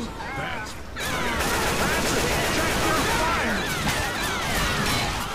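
Dense rapid gunfire from several weapons in the Left 4 Dead 2 No Mercy campaign, loud and continuous, with a short quieter lead-in before a sustained barrage of overlapping shots and impacts.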